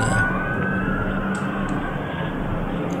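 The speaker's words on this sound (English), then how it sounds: "ambulance and fire truck pass by" An ambulance and fire truck siren wails faintly at a distance under a steady rumble of traffic, the tone holding fairly constant for a few seconds.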